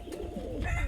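Pigeons from a flock give a short, low, throaty coo, close by and brief.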